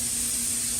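Water rinsing both sides of a PEI 3D printer build plate, a steady close hiss of running spray held at an even level throughout the short moment with no voices.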